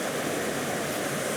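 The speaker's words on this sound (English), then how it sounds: "Even though it feels like a little stream, when it's concentrated into a drop off like that" A small stream concentrated over a drop-off, giving a constant, loud, broadband rush of falling water with no pauses or voices.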